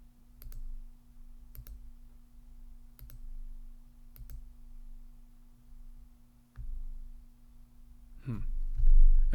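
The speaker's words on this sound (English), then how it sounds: "let me go back to the mouse pad so you don't hear the mouse clicking" A few sharp, light computer mouse clicks spaced a second or so apart over a steady low hum, with a louder clatter of handling near the end.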